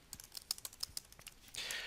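Quiet, close typing on a computer keyboard, about a dozen light clicking keystrokes in quick succession, ending in a brief soft rustle, with no voices.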